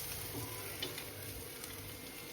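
Okra coated in gram flour fries in a pan, a soft, faint sizzle with gentle stirring that stays low and even.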